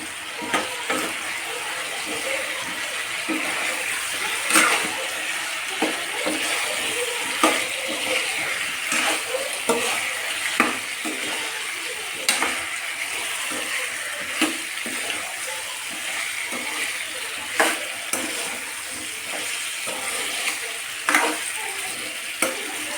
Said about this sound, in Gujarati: હવે આપણે આમાં બટેટા નાખી દઈશું. પછી બધાને સરખાઈ મિક્સ કરી લેશું.